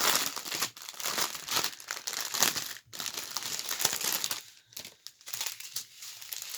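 Plastic zip bags from a Shein order crinkling and rustling as they are handled, a busy, continuous crackle with short pauses and bursts of louder crumpling, close up.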